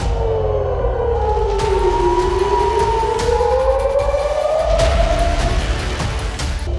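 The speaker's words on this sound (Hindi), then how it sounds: "ये सायरन की आवाजें युद्ध की घोषणा कर रही हैं।" A loud civil-defense air raid siren wails continuously at midnight during missile strikes, its pitch slowly rising and falling over a deep rumbling background, with a couple of faint thuds.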